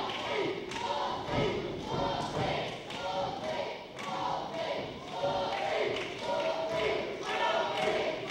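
A wrestling crowd at a Southern States Wrestling show rallies behind Wolfie D, chanting and cheering in a rhythmic, swelling roar with thumping beats from the arena as a commentator talks over it.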